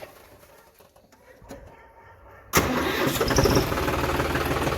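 Quiet outdoor ambience with birds on a farm, then a tractor engine abruptly starts and settles into a loud, steady rumbling idle.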